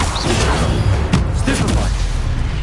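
A booming Incendio fire spell bursts in Hogwarts Legacy combat, a dense whooshing blast amid clattering battle effects, with a voice speaking over it.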